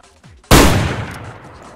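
A single loud, close gunshot in the DayZ video game, with a sharp crack that rolls off into a long, fading tail.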